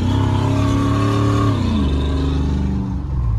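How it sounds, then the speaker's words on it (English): An LS-swapped OBS Ford truck with a Carven exhaust revs loudly and up close, its engine note climbing and then dropping back as the throttle eases off. "Bro, this truck sounds so much better now."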